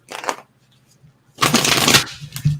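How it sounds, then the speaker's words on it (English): Tarot cards being shuffled in two loud, close riffling bursts, a short one and then a longer one, with a brief quiet gap between them. "I love the sound of shuffling cards"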